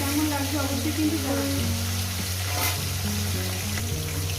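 Steady, crackling sizzle of hilsa fish heads frying in hot oil, loud and close, continuing without pause and with no voices.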